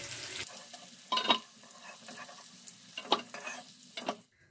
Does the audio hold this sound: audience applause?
no